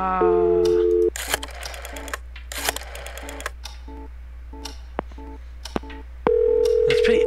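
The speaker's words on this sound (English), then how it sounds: "It's pretty excellent that you can call a phone number two times." Telephone keypad dialing in the video game Scratches: a steady tone, then a quick series of short, evenly spaced beeps with a few clicks, ending in a longer held tone.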